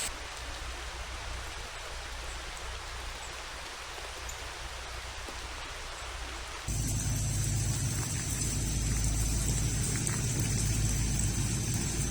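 Broad, steady rain hiss in Pisgah National Forest that grows noticeably louder and denser partway through, like a downpour picking up in the woods.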